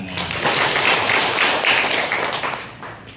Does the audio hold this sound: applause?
yes